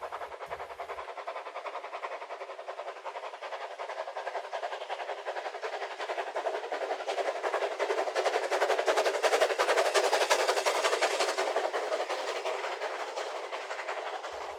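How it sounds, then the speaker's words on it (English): Steam train noise, a steady rushing, rattling clatter that swells to a peak midway and eases off, with no voices. "There is the sound of steam trains."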